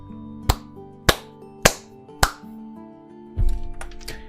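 Four sharp hand claps at a steady, even pace sound up close over a quiet tonal background, followed by a few softer scattered knocks and rustling.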